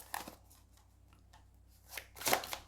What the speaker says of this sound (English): these cards are really large, so hard to shuffle a little bit